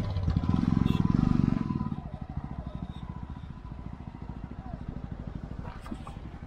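A motorcycle engine rumbles up close on a snowy mountain road in Spiti, loud at first and then settling into a steady rhythmic chugging idle.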